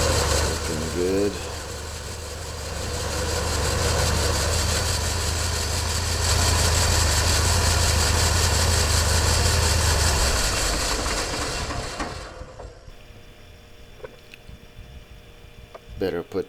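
A lawn mower engine runs steadily with its blade engaged, a loud continuous mechanical drone with whirring and rattling, then it cuts off, leaving quieter background clicks and faint sounds.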